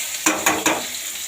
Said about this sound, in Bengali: ওদিকটাতে এই যে আলুটা ভেজে নিচ্ছে সয়াবিনের জন্য